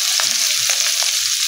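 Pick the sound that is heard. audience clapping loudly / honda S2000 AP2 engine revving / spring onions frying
spring onions frying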